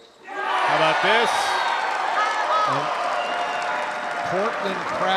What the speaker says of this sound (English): Portland crowd coming alive right now.